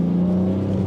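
A BMW M3 engine drones steadily as the car accelerates under load, a loud, continuous low tone holding through the whole second with no voices.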